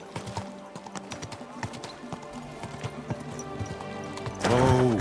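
Horse hooves clip-clop in Kingdom Come: Deliverance II, a steady trotting rhythm of hoof strikes close by, with a horse's whinny bursting in near the end.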